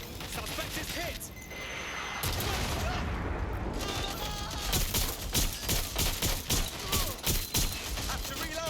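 Sustained gunfire in Watch Dogs: Legion, loud and continuous, with rapid overlapping shots and a steady pulsing rhythm of repeated bursts mixed with mechanical clatter.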